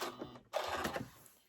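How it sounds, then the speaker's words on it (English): A sewing machine runs a 1/4 inch seam on a Bear Paw quilt block. There is a brief whir, a short pause, then a fuller close burst of stitching about one second long. "I'm going to stitch those down as well, using 1/4 inch seam allowance"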